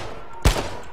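A single sharp gunshot in a shooter video game, loud and close, followed by the start of another at the very end over a steady background hum.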